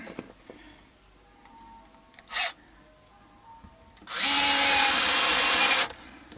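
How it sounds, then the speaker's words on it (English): A power drill bores screw holes into a guitar body in one loud, sustained burst of whirring lasting under two seconds, preceded by a brief softer mechanical noise. "then there's 3 more to be drilled"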